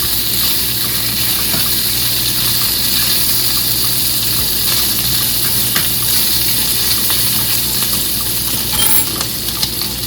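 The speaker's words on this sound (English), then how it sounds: "that's one thing about bacon, baby. It pops. Pork bacon." Pork bacon frying in a pan, a loud, continuous hissing sizzle up close with scattered sharp pops and crackles breaking through, and no one speaking.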